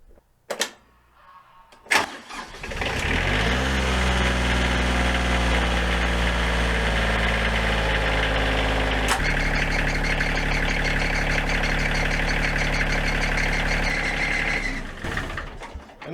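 A Kioti CK25 HST tractor diesel engine cranks after a couple of clicks, catches and settles into a loud, steady, close idle with a rough rumble, briefly revs partway through, then shuts down near the end.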